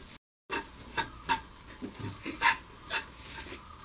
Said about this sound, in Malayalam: നമുക്കത് നന്നായിട്ട് ഇളക്കി കൊടുത്ത് വേണം വറുക്കാനായിട്ട്.